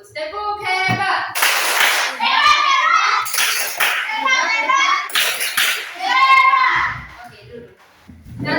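A classroom of children claps a patterned cheer together, bursts of sharp unison claps alternating with their rhythmic chanting, close and lively.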